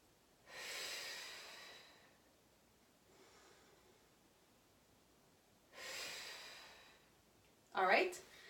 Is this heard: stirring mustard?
no